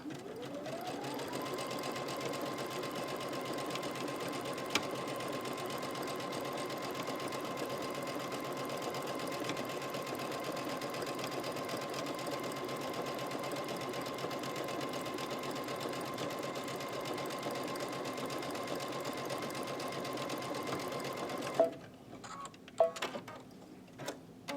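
A sewing machine stitches a zigzag pattern at 4.5 mm width, decorating with a Brother embellishment kit. It runs at a steady, continuous whir for a long stretch, then stops, leaving a few scattered clicks and taps.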